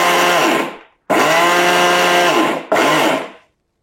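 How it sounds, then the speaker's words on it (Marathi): A kitchen mixer grinder pulses rock sugar into powder in three loud bursts, each whirring up sharply and winding down, with short silent gaps between and no talking. "त्यामुळे पल्स करत करत खडीसाखर बारीक करा."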